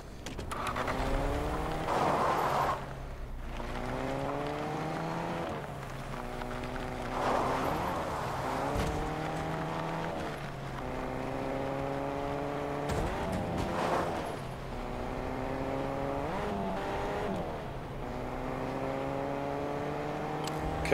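Car engine in a video game, revving up and shifting gears again and again in a rising, stepped whine that stays near and steady, with no talking.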